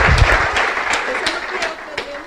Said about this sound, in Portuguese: vamos aplaudir mais uma vez ao nome do Senhor